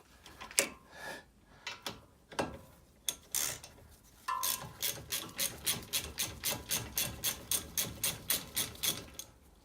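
Impact wrench rattling on wheel bolts during a brake pad and disc job on a Mk5 VW Golf: a few short separate bursts, then a steady run of rapid hammering blows, close and loud, with no talk.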